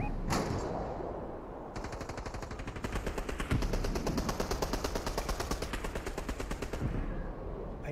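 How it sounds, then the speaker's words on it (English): Automatic gunfire in the video game Fortnite: a sustained rapid rattle of shots starts after an opening bang, continuing steadily for several seconds before cutting off, loud and close with no voices. "I wasn't sure who was firing at me."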